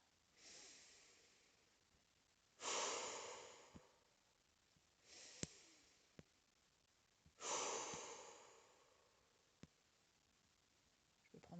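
Dynamic breathing during a guided sophrology relaxation: a few forceful inhales and long, rushing exhales, separated by quiet pauses, with soft clicks in between.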